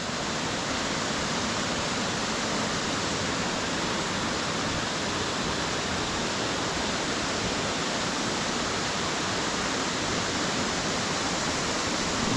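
A waterfall roars in a loud, unbroken wash of rushing water, heard close and steady for the whole stretch with no voices.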